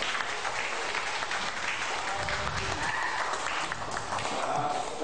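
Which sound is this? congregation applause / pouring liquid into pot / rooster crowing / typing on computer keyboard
congregation applause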